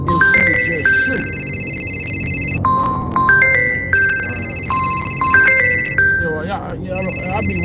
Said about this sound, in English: I thought that phone call would kill a live stream